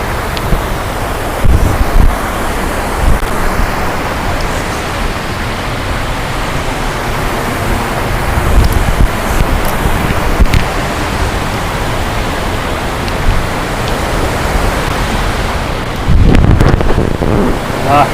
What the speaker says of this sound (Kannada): ಧುಮ್ಮಿಕ್ಕೋದ್ ನೋಡಿ ಇಲ್ಲಿ ಜಲಪಾತವನ್ನ ಮೇಲಿನಿಂದ ನೋಡ್ತಾ ಇದ್ದೀವಿ ನಾವೀಗ